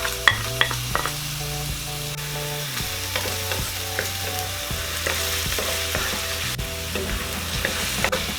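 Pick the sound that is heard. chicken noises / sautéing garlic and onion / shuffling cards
sautéing garlic and onion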